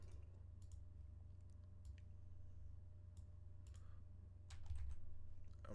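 Faint, quiet keyboard typing: scattered clicks and short bursts of keystrokes over a low background hum, getting a bit louder near the end.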